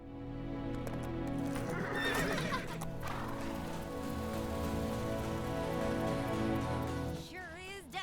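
In the Lego Marvel Super Heroes 2 video game, a horse whinnies while hooves clip-clop alongside a steady rain-like background wash, with music tones layered throughout and a rising squeal near the end.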